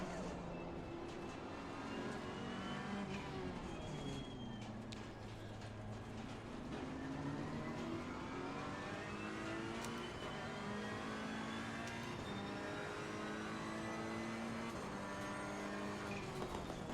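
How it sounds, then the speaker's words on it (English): Race car engines in the racing game Assetto Corsa Competizione rev and shift continuously, rising and falling engine tones with gear changes and exhaust pops, fairly faint and steady throughout. "That's what's popping, the sound of engine exhausts."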